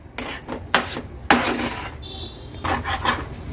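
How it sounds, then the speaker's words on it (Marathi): Heavy pan scraped by a spoon as moong dal halwa is stirred continuously, with uneven clanking and scraping strokes, some sharper knocks, close and fairly loud, no talking. "हा मुगाच्या डाळीचा हलवा शिजवून घ्यायचा आहे आणि कंटिन्यू असं ना स्टर करायचं आहे"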